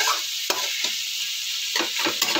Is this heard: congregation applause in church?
no